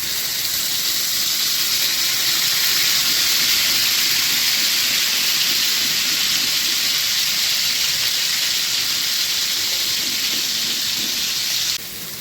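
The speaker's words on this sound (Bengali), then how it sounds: "তেল গরম হয়ে গেছে মাছগুলো এর মধ্যে দিয়ে দেবো" Catla fish pieces frying in hot mustard oil, a loud, dense, continuous hiss that holds steady close by before dropping slightly at the very end.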